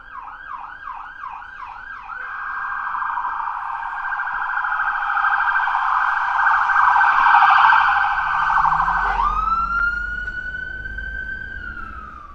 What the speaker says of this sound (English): Obligatory siren.